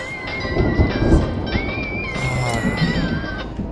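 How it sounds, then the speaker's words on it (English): Thunder rumbles and rain falls in the video game Mind over Magic, low rolling booms and a steady rain hiss beneath a sustained whistling tone, fairly loud with no talk. "I'm just gonna zoom out so I can listen to the thunder and the rain."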